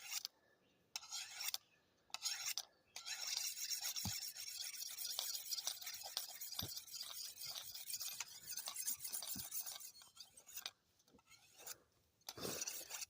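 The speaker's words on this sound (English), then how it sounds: "I burnish, and I'm not on the edge. I'm just burnishing behind the edge, just polishing it up." A sharpening rod is rubbed along a machete blade in a series of close, scraping strokes with short pauses between them. A few sharp ticks mark where metal meets metal.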